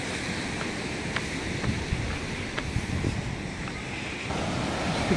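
Arabian Sea surf rolls in on a rocky coast, an unbroken wash of water noise with wind rushing across the microphone and a few faint clicks, growing slightly louder toward the end.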